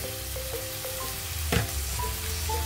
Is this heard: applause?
no